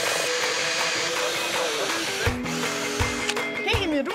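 A power drill bores screw holes for mounting a swing, its whine rising in short bursts between pauses while people talk nearby.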